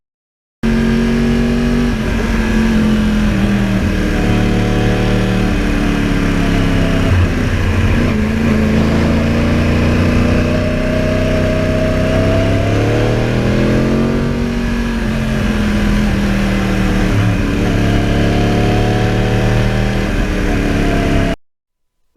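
A Yamaha R1 crossplane sport motorcycle engine runs loud and close for about twenty seconds, its steady growl swelling and easing through several revs before cutting off abruptly.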